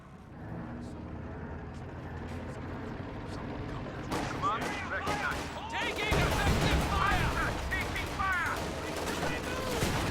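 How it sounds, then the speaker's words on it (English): A grenade bursts in a real-time strategy battle with riflemen and a Stuart tank, one sharp blast standing out amid steady gunfire and battle noise, with a voice talking over it. "Ooh, that was a pretty good grenade."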